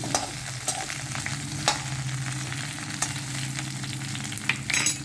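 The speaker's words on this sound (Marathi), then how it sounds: "हे थोडे खाली वर करून घेऊ आणि झाकून घेऊ" Ridge gourd being stirred in a hot pan, a continuous sizzle broken by several sharp spoon-on-pan scrapes and knocks, close and fairly loud, no voices.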